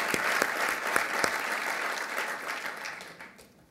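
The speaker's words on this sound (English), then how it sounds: "Could we have a round of applause for them" An audience at Palm's CES 2010 presentation claps steadily in a large hall, a dense burst of applause that fades away after a few seconds.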